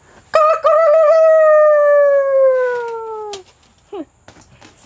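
A toy rooster decoration gives one long, loud electronic crow with a falling pitch, lasting about three seconds, followed by brief chirps and a few faint voices.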